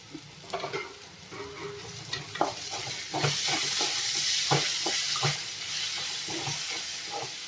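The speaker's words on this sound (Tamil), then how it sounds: "இந்த சைஸுக்கு ஒரு புளி சேர்த்துட்டு கிளறிடலாம்" Guava chutney ingredients with a small piece of tamarind being stirred in a hot pan: a run of distinct spoon scrapes and knocks, then a louder, steady sizzle beneath continued stirring strokes.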